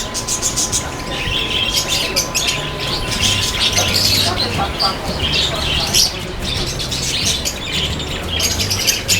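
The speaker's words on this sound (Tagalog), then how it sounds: "Ito, African lovebirds, oh." African lovebirds calling at a bird market, a dense, loud chorus of shrill chirps and squawks that runs throughout, with a voice speaking over it.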